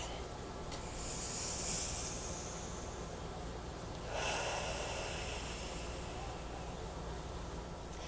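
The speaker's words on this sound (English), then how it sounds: "So everybody take a deep breath." A person draws a long, airy inhale, then after a pause lets out a second soft, breathy rush of air, close and quiet, as a meditation begins.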